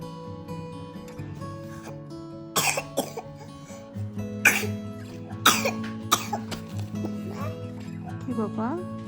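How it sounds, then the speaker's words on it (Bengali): A small child with a cold coughs several times in short harsh bursts, close by, between stretches of an adult's speech. "মানে এত কাশি শুরু হয়েছে ওর।"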